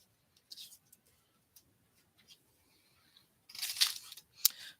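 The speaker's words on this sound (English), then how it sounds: "we're gonna fussy cut this out" Scissors snip paper in a quiet room while fussy cutting out stamped flowers and clouds for a junk journal. A few soft isolated cuts come first, then a brief louder burst of crisp snipping near the end.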